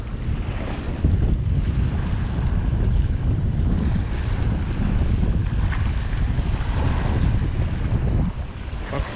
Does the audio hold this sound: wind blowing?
yes